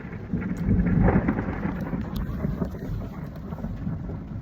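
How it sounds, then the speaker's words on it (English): Rolling thunder from a lightning storm in St. Charles, Missouri, rumbling loudly over steady rain with scattered crackles, then slowly fading. "There was a big lightning bolt that came down like right over there a second ago."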